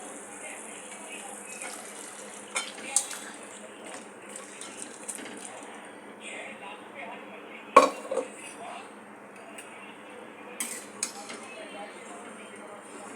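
Cooked chicken from a free-range country rooster goes into oil-glossed masala in a pan, with wet sloshing, occasional metal clinks of a spoon against the pan, and a few sharper clatters over steady kitchen background.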